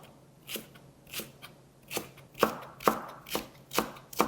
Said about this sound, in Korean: 대파는 어슷 썰어서 준비를 하도록 하겠습니다